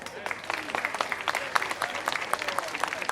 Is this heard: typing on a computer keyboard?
no